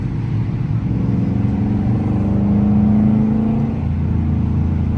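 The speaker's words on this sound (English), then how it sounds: "we're gonna downshift. Then we're gonna upshift again. Right now we're in second gear." A car engine hums steadily in second gear while paddle shifters change gears, its pitch rising slightly as revs build midway, loud and close with no talking.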